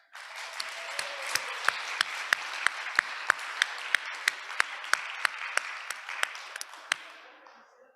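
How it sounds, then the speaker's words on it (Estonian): A room of conference attendees applauds the cooks who prepared the meals, a steady burst of close hand clapping with sharp individual claps standing out before it tapers off near the end. "on tulnud ettepanek tänada aplausiga meie kokkasid"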